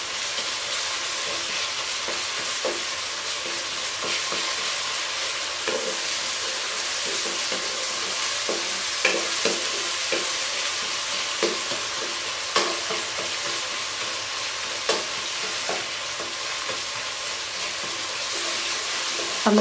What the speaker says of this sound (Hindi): अब हम इसको हल्के हाथ से इस तरह मैश कर देंगे